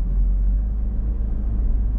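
A car pulls away from a stop sign during a Polish driving exam route in Dąbrowa, its engine a steady low rumble that builds slightly under acceleration, close and continuous with no talk.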